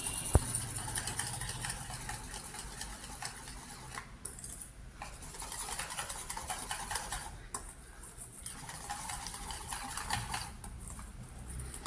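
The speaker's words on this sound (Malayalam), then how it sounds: "അര കപ്പ് കോൺഫ്ലവർ എടുത്തിട്ടുണ്ട് അത് നമുക്ക് അതിലേക്ക് ചേർത്ത് കൊടുത്ത് നന്നായി ഒന്ന് ഇളക്കിയെടുക്കാം" A spoon scrapes and clinks against a bowl while cornflour is stirred into passion fruit juice for halwa, a busy close rattle with steady stirring and occasional pauses, no talking.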